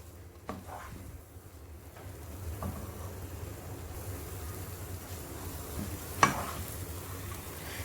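Carrot and banana halwa is stirred in a pan with faint scraping strokes and occasional knocks against the metal over a quiet, low sizzling background.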